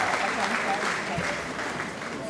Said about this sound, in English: please a round of applause for yourself